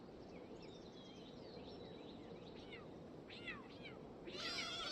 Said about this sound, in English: All I hear is freaking meows in the background.